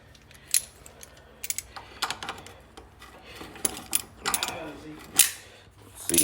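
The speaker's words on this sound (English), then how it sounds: "I gotta loosen these vice grips a little bit" Vice grip locking pliers being loosened on a U-joint of a Chevy Silverado 2500HD, a series of close metallic clicks, taps and ratcheting clanks with brief pauses between them, without talk.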